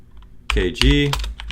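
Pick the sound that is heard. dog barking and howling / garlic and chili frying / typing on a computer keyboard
typing on a computer keyboard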